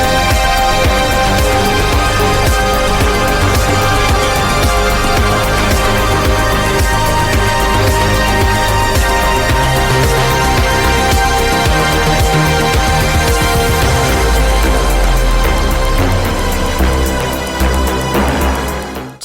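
A synthwave track from an album's bonus disc plays loud and full, driving low bass and thick synth layers continuing steadily, easing slightly near the end.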